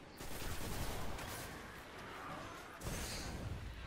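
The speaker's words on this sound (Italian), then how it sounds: "Che cazzo è che mi butta le bombe di merda?" Explosions and gunfire from bombs thrown at the player in the video game Destiny, a dense burst of blasts and rattling shots, loud at first, dipping briefly, then surging again near the end.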